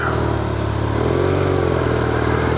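A 2001 BMW R1150RT motorcycle engine idles steadily and close by, with a low, even thrum and a slight rise in pitch partway through, and no voices over it.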